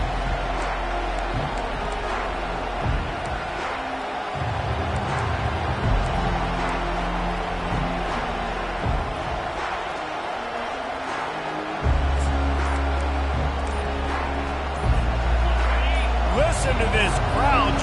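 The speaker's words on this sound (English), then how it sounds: "Listen to this crowd just shaking the girders of this place, trying to help their defense." A college football stadium crowd at a UGA versus Oregon game roars steadily behind a commentator's talk, swelling louder near the end as fans try to help their defense.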